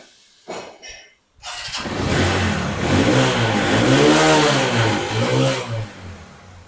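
A used red Runner Turbo 18 motorcycle with a fresh engine starts up nearby, then revs repeatedly, its pitch rising and falling in several close, loud throttle blips.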